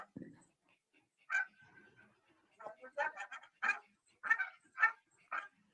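An old female Corgi gives a string of weak, thin barks and yips, with a whimper among them. The barks are fairly close but quiet, in uneven bursts with short gaps between them.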